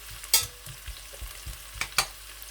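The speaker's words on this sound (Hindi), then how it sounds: "10 मिनट तक हल्की आंच पर प्याज को पकाने के बाद प्याज जो है वो लाइट सा ब्राउन हो जाएगा" Onions cooking over low heat in a pan for kala chana rice, stirred with a series of close scraping taps and clatters over a soft, steady sizzle.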